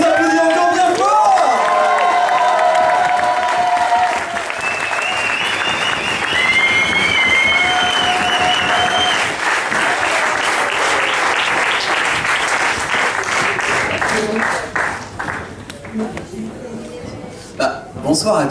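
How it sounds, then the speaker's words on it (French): Wedding guests applaud the newlyweds in a long, loud, dense wave of clapping and cheering that runs unbroken, mixed with excited voices and talk, then thins into scattered claps toward the end. "On peut les applaudir encore bien fort."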